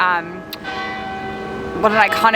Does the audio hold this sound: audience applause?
no